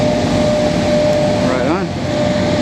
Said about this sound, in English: I hear a street sweeper